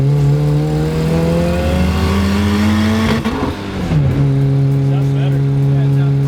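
Turbocharged car engine with a homemade dump pipe revving hard under boost, a loud rising drone that dips during a gear change and climbs again, close and sustained.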